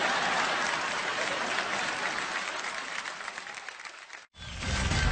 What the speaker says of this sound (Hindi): जोरदार तालियां सीसीएल के लिए, एक बार खुल के तालियां